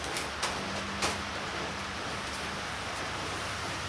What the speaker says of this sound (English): Sort of rainy.